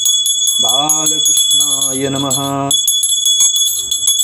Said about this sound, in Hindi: धूप दिखाते समय घंटी बजाना चाहिए।